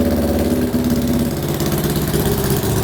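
Honda CL77 305cc scrambler engine idling up close, a loud, steady, throbbing low rumble with even pulses and no talk over it.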